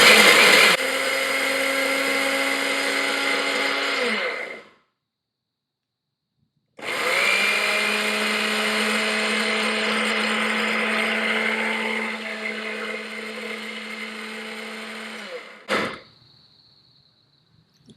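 A small household blender with a damaged jar pulverizes plain eggshells, running in two long loud whirring bursts separated by a silent pause, then winding down with a brief clatter.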